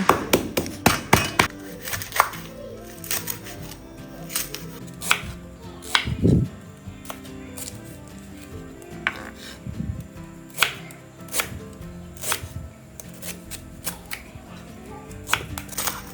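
Knife chopping lemongrass on a cutting board in a home Thai kitchen while chicken feet simmer for a spicy soup, giving sharp, close, irregular knocks in quick bursts with pauses, no talking.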